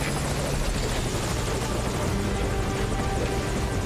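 Helicopter in the video game Metal Gear Solid V: Ground Zeroes, a constant loud rotor thump and engine drone that fills the scene without pause, with no talk over it.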